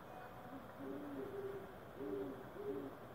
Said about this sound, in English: I've never heard owls outside my house before.